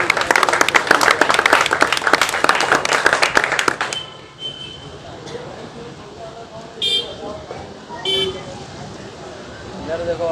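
Audience applause at a Samajwadi Party joining event in a village, dense clapping roaring loud for about four seconds and then breaking off, leaving quieter crowd noise with a few scattered tones.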